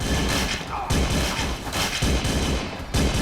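Dense gunfire crackles in a dramatic scene, a continuous burst of overlapping shots and thuds that fills the whole moment, loud and close, with no clear breaks between reports.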